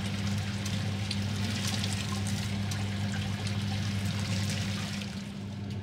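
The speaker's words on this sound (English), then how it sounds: "I'll sparge this up to about 28 litres" Hot sparge water pouring steadily into a mash of grain for a home-brewed keg bitter, a continuous close splashing rush under a low steady hum, unbroken until it eases slightly at the end.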